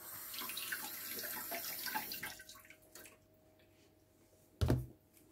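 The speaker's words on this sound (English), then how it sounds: "First I'm going to wash and prep my carrot." Carrots rinsed under a running kitchen tap, splashing water for a couple of seconds that fades out, then a brief loud knock or thud near the end.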